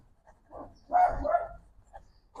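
Dogs barking outdoors, a few short muffled barks spread across a brief moment, with one louder cluster in the middle, heard at a distance.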